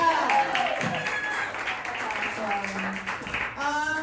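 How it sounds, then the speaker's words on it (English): Audience applause for dads at a Father's Day variety show, a brief patter of crowd clapping partly mixed with voices and cheering. "clap if you're a dad"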